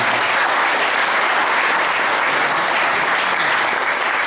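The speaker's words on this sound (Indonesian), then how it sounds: "Tepuk tangan dulu biar semangat." A room of teenagers at a meditation session bursts into loud, dense, continuous applause, steady from start to finish with no talk.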